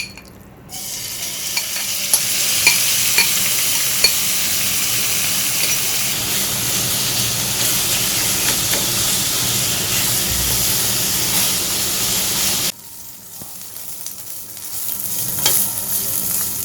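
Chicken frying in a pan with two spoons of oil, a steady loud sizzle with occasional stirring clatter running for about twelve seconds, then dropping to a quieter hiss with faint scrapes near the end.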